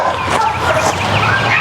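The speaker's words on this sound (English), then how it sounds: "I'm not sure why these dogs are freaking out" Several dogs yip, whimper and bark excitedly near a disc golf course by a brewery in Austin, Texas. The agitated calls are close, fairly loud and continuous, with no talking.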